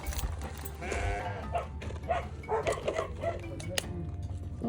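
Goats bleat in a small goat farming village beside mountains in South Africa. Several overlapping wavering calls rise over steady outdoor background noise, with a voice faintly audible in the mix.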